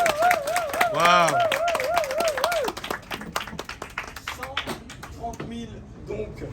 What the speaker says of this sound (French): Ça mérite des applaudissements quand même.